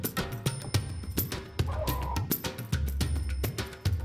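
Native chickens in a backyard coop cluck and squawk in short, repeated bursts close by, with a few louder calls scattered through the steady flock noise.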